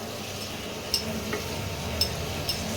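Spice paste being stirred through flat beans in a pan, with a quiet steady sizzle underneath and a few light, sparse clicks of a utensil against the pan.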